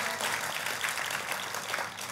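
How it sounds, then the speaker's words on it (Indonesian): A church congregation applauds with dense, steady clapping that fills the room at an even level throughout. "Kasih tepuk tangannya yang meriah buat Tuhan kita."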